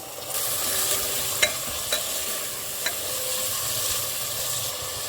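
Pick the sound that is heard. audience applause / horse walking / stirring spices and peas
stirring spices and peas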